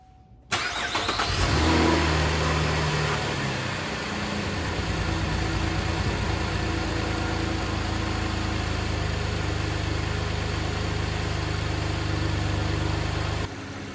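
A GM 3.6L engine with a misfire after dealership service cranks and catches, revs up briefly, then settles into a steady, even idle heard up close with no talking.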